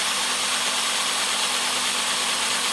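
A handheld drill fitted with a high carbon bit bores into high tensile steel rivets on an Opel Astra front suspension, giving a steady, loud whine with a constant tone and no break.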